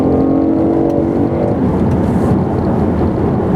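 A BMW i8 pulls away under acceleration, a steady loud broadband roar with a rising tonal whine early on that blends into dense engine and road noise, close and continuous with no talk.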